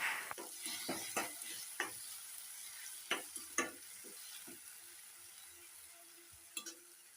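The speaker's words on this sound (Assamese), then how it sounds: "এতিয়া আমি ইয়াতে বিলাহীৰ পেষ্টখিনি দি দিছোঁ আৰু আমি ভালদৰে ভাজি ল'ম" Tomato paste frying in a pan for a chili fish dish, with a low steady sizzle broken by irregular scraping strokes of a spoon stirring it close up; no voices.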